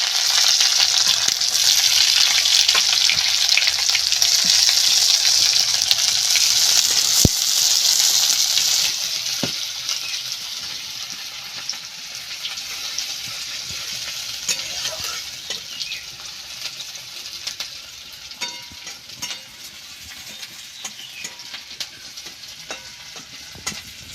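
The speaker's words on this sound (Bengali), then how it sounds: "আমি কড়ায় সর্ষের তেল দিয়ে দিলাম পরিমাণ মতো তেলের উপর আমি দুটো তেজপাতা দিয়ে দিলাম পেঁয়াজ কুচিগুলো দিয়ে দিই" Chopped onion hits mustard oil with two bay leaves in a kadai, making a loud, close sizzle that later settles into a softer, steady frying hiss with occasional stirring scrapes and clicks.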